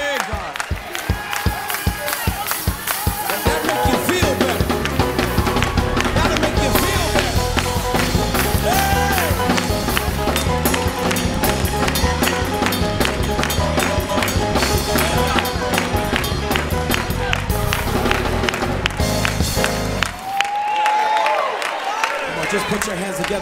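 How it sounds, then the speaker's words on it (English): A church congregation claps together in a sustained round of rhythmic applause, loud and crowded with cheering and voices mixed in, fading out near the end. "just give him a thank offering, a clap of thanksgiving."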